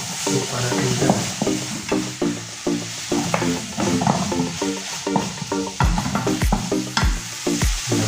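Kheema mutton curry is stirred and fried in a pan, with a constant sizzle under repeated scraping strokes and clinks of the utensil against the pan in an uneven rhythm, close and fairly loud, no talking.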